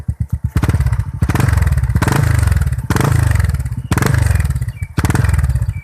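A newly bought motorcycle idles up close and loud, with a chugging engine that repeatedly revs up and drops back in several roughly one-second bursts. Nobody talks over it.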